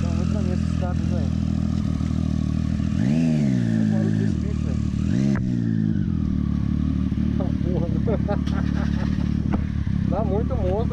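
A Triumph Street Triple 675 motorcycle fitted with a Two Brothers exhaust idles close by, then revs sharply in several quick bursts that rise and fall, with someone talking over the engine.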